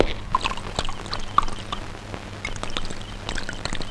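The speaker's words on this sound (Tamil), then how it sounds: "கொஞ்சம் கிளாஸ்ல ட்ரிங்க் ஊத்திக்கணும்" Liquid pours into a glass in a few short splashy bursts, with faint clinks and background rustle, indoors with no talking.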